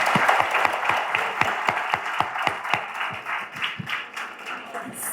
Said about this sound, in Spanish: Más vamos a aplaudir a los ginecobstetras.